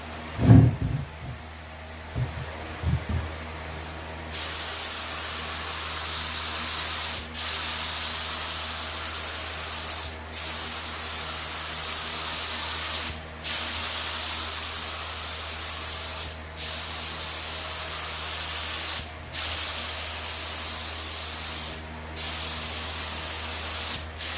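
Clear coat paint sprayed from a spray gun in long, loud continuous hissing passes, each broken by brief pauses, following a few soft handling knocks at the start.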